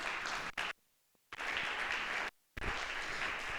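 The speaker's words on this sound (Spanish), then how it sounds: "¿Por qué no te pones de pie y le das un fuerte aplauso al Señor?" A church congregation claps during a Spanish-language worship service, loud dense applause in three bursts broken by two short silent gaps.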